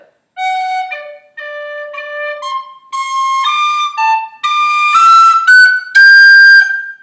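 A tin whistle plays a variation on the Irish tune Kitty's Rambles in short tongued phrases, each note clear and bright, climbing higher toward the end and sounding close, loud and unaccompanied.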